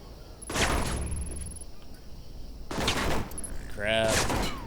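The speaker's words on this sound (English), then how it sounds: "Stop shooting at me." Bursts of gunfire in the video game Alpha Protocol are aimed at the player character, two heavy volleys separated by quieter moments, followed by a rising electronic game sound.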